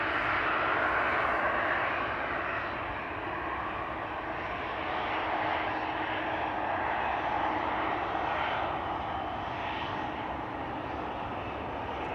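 A KLM Boeing 737-800 jet departing Amsterdam Schiphol, bound for Lisbon, gives a steady, broad engine roar that holds at moderate distance for the whole stretch, with no voices.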